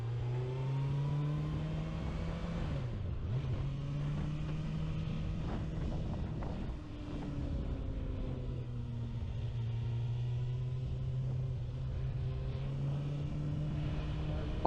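A 2024 Kawasaki ZX6R ABS motorcycle rides steadily around town, its engine droning close and continuous with pitch sweeping up and down through gear shifts, including a brief dip near the middle.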